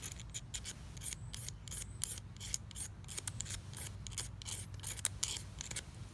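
A knife scrapes a magnesium fire-starter block into shavings, producing repeated quick, rough rasping strokes in a steady rhythm, close up but faint.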